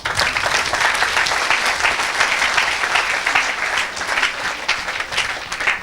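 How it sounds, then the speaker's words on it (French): A church congregation claps and cheers for the Lord in a sustained, dense burst of applause that holds steady and loud from start to finish. "Quelqu'un acclame le Seigneur."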